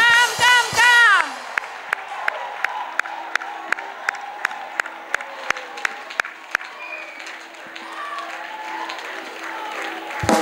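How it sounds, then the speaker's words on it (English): Steady rhythmic clapping from a church congregation, sharp evenly spaced claps over a murmur of voices and a few shouts, with singing at the start. "Acclamation à Jésus-Christ. Clap for Jesus."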